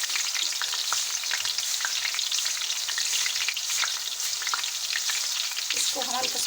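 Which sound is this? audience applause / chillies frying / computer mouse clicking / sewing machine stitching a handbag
chillies frying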